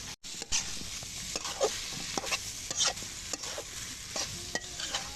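Brinjal and raw tomato stir-frying in a large wok, a steady sizzle broken by repeated scraping and clinking strokes of a spatula, close and fairly loud throughout with no talk.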